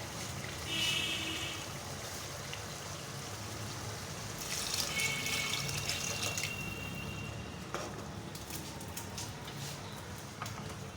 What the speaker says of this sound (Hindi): अब हम इसमें 1 गिलास पानी डालेंगे, बड़ा 1 गिलास पानी का।